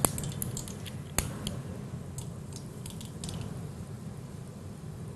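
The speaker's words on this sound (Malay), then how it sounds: "sekarang pembuakan sedang berlaku. Ada gelembung-gelembung gas yang keluar" Gas bubbles fizz out of a chemical reaction in a school chemistry rate-of-reaction experiment, a steady soft effervescent hiss with scattered small pops and one sharp clink, close by and without talk.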